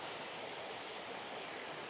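Twin waterfalls pour over rocks into a pebble bed in a mossy, rock-enclosed spot, giving a steady, dense rush of falling water that holds level throughout with no voices.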